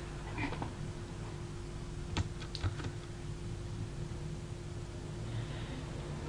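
Light tapping on a computer keyboard during product editing in a Shopify store, a few quick clicks and keystrokes sounding faintly over steady background hiss.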